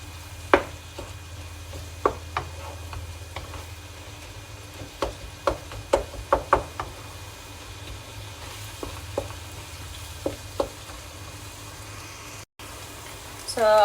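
Pieces of meat browning for chilli con carne crackle faintly in a pan while a utensil knocks and scrapes in irregular sharp taps as the meat is chopped up. The sounds are quiet and spread out.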